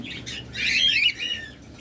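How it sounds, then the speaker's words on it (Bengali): Caged pet birds, lovebirds or cockatiels, give a short burst of harsh squawks and chirps close by, with a faint flutter of wings, no talking. "একদম মাস্টার পেয়ার পাখি এগুলো"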